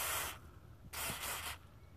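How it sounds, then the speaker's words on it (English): Penetrating spray hisses onto a bolt on a Toyota MR2 MK2 engine in three quick bursts, one short and two longer, close up and faint. "Use a bit of spray on this bolt."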